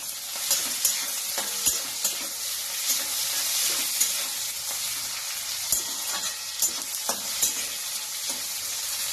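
Onion and tomato fry for masala bottle gourd, producing a loud, constant sizzle close by with regular scraping stirs throughout and no voices.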